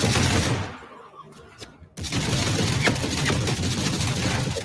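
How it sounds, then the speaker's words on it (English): Factions trading gunfire in a video game, a loud rattling burst that fades into a quieter stretch with a few isolated shots before heavy, sustained automatic fire cuts back in close. "So I got some footage in here where they're literally shooting at each other."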